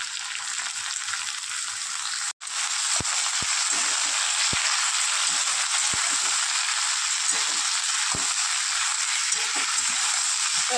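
Ridge gourd and potato sizzle steadily while frying in a pan for a home-style prawn curry, a loud continuous hiss with a brief cut early on and occasional soft clicks of stirring.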